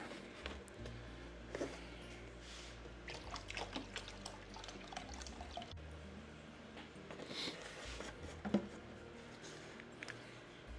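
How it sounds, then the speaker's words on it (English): Vinegar trickles and splashes faintly into water in uneven bursts, with small squishy sounds, quiet and close. "Now we're going to add our vinegar."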